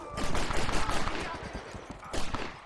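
Rapid bursts of Gatling gun fire in Red Dead Redemption rattle out loud and close, a fast stuttering volley that pauses briefly before another burst near the end.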